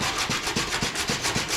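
Sanding block rubbed back and forth over the body panel of a 1998 Toyota 4Runner, close and loud, in steady rhythmic strokes of about four per second with no talking.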